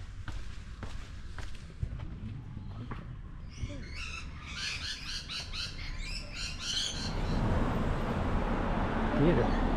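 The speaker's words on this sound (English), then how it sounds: "Oh, they hear the bird." Several birds squawk and call in a busy cluster over steady outdoor background noise on the Bondi to Manly coastal walk, with a few sharp knocks and footsteps nearby.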